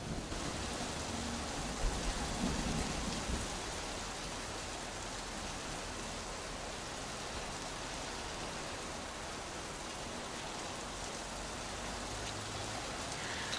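Steady rain pours down in a dense, even hiss that holds at a constant level for the whole stretch, with no voices over it.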